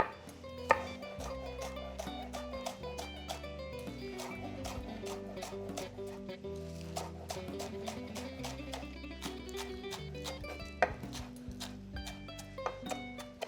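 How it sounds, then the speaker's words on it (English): A knife cuts scallions on the bias against a cutting board in a kitchen, a quick, even series of close, crisp chops with brief pauses, over faint background music. "I'm just going to trim off some of the ends of the scallion, and I'll just cut them on the bias like that"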